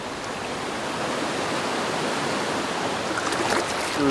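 Water of Ottertooth Creek flows into a lake in a canyon. It makes a steady, broadband rushing that holds at an even level throughout and swells slightly near the end.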